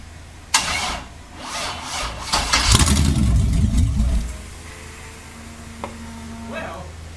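A 6.0-liter LS V8 swapped into a Ford Fox-body Mustang cranks and fires for its first start, a loud rough burst of revving that settles after a few seconds into a quieter idle, with brief speech near the end.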